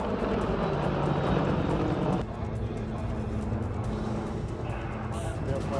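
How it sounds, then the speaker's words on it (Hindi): Apache military helicopter flying over an Indian Army exercise, its loud, steady rotor and engine roar filling the whole stretch with dense, unbroken noise. "आसमान में अपाचे हेलीकॉप्टर ने मोर्चा संभाला।"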